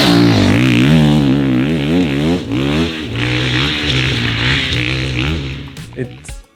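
A 2022 Husqvarna FE350 enduro motorcycle engine revs up and down repeatedly in close, loud, rising and falling surges, then settles into a steadier run before cutting off near the end.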